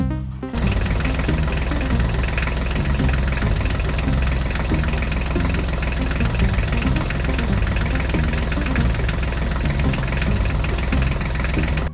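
A tractor engine runs steadily and loudly throughout, a dense continuous mechanical drone with no voices over it.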